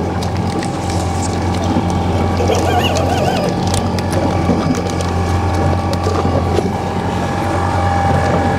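A fishing motorboat engine drones steadily and loudly up close on the ocean off Astoria, with wind and rattling mechanical noise over the hum.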